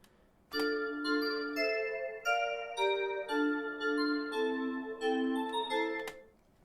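A bright synthesized chord progression with a melody on top in a hip-hop-style beat, sustained tonal chords changing every second or so, ending with a short tail.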